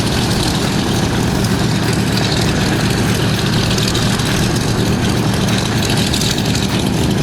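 A Douglas DC-3 airliner runs its piston radial engines in a loud, steady propeller drone, a dense low rumble that holds unbroken throughout.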